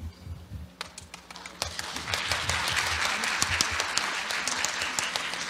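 An audience at a security conference opening breaks into applause to welcome the chief organizer, building from scattered claps into a dense, sustained round.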